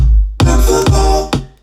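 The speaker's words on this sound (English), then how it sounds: "the vocal chops, which together with the kick drum sounds like this." An electronic dance music drop built from chopped vocal samples over a punchy kick drum, loud and dense, with sharp rhythmic hits landing roughly every half second.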